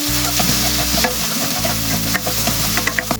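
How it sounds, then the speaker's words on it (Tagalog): Tomato, onion and garlic sauté in a pan, a steady dense sizzle broken by repeated scraping stirs and small pops, close and fairly loud, with no voices. "Kapag okay na ang ginigisa nating kamatis, sibuyas at bawang"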